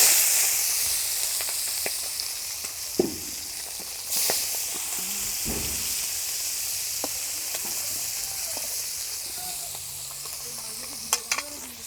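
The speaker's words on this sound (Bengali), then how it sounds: "মাছ ভাজতে দিয়ে দিলাম। মাছগুলো এবার আমি ভালো করে ভেজে নিই" Fish fries in hot oil with a continuous close sizzle and hiss, marked by occasional crackles and a few sharp spatters through the steady bed of frying.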